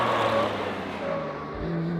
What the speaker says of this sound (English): And now he's going to do heavy acceleration.